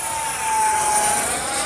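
An electric RC L-39 model jet flies past with a steady, loud whine of its ducted fan and a bright high tone, swelling slightly in the middle, no voices.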